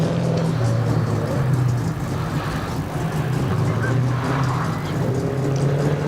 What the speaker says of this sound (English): we've got Kurt Wilson just rocketing off the start line here in the 2015 STI